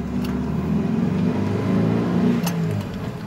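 A small Mitsubishi 1.8 ute engine revs high in first gear, a sustained, buzzing drone that rises gradually and holds near the microphone before easing off.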